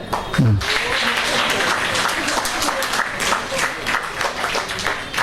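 An audience at a felicitation ceremony applauds steadily, with many hands clapping at close range for several seconds and a few voices faintly audible underneath.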